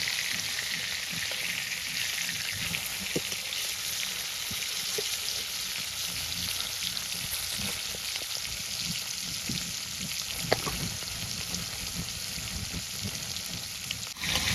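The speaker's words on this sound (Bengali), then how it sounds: "এই দেখো মাছ এক খোলা ভাজা হচ্ছে" Tilapia fish fry in oil in a wok over a village clay stove, giving a steady, dense sizzle that runs unbroken for the whole stretch, with occasional soft clicks from turning the fish.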